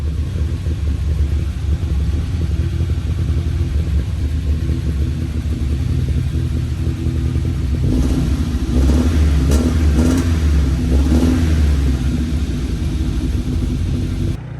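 A 1971 Honda 1300 Coupe 9S engine runs steadily at a loud, close idle after its first start in seven years, then revs up in a few throttle blips near the end.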